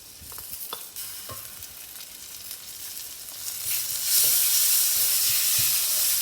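Ginger garlic paste frying in a pan while being stirred, with scattered scrapes and knocks over a sizzle that swells into a louder, steady hiss midway, close by with no voices.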